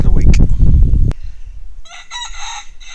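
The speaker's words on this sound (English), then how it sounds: "Chickens seem pretty happy." Chickens on a homestead: a loud burst of clucking and crowing from a rooster up close, then quieter, followed by higher-pitched bird calls in the background.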